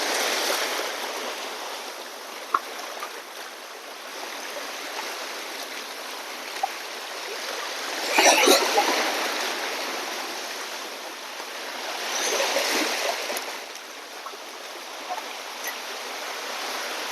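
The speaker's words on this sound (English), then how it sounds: "So this is the ocean where I live here in Quezon." Ocean waves rolling ashore in Real, Quezon Province, a steady broadband wash with two louder surges breaking midway and near the end, no voices.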